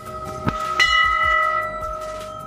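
A temple bell rings at the Maa Bhagwati (Kotgari) temple in Pankhu, Uttarakhand, with a sharp strike followed by a second louder one that leaves a long, sustained metallic hum fading slowly.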